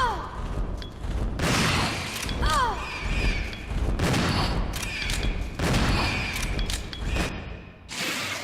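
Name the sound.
shotgun firing at giant bat, Resident Evil 0 video game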